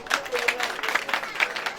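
An audience applauds jury members at a ceremony, a brief burst of scattered hand clapping from a moderate distance, fairly light and uneven.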